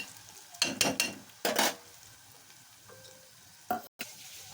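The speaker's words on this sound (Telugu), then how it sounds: "కొద్దిగా వేగేదాకా అయితే ఉంచుకోవాలండి కొంచెం గోల్డ్ కలర్ లాగా వచ్చే వరకు" Sliced onions fry in a pan for a bitter gourd curry, giving a few bursts of loud sizzling and stirring scrapes, then quieter crackle, with a final short stir near the end.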